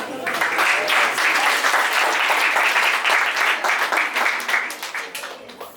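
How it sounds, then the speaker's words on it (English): Hearty audience applause at a Bollywood dance showcase, dense and sustained clapping from a crowd that holds steady for several seconds before easing slightly at the end. "Let's give a huge round of applause to our intermediate Bolly lyrical dancers"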